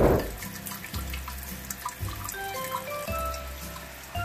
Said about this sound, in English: Hot liquor tank going into the mash tun, a lotter tun.